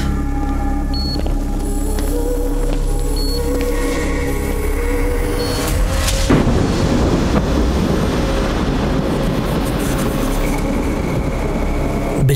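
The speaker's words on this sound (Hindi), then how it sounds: "बिजली कड़की और साथ में पावर आ गया" A thunder clap during a storm arrives as one sudden broadband crack midway, then rolls into a sustained, noisy rumble that fades slowly; before it, a faint mechanical drone with scattered tones plays.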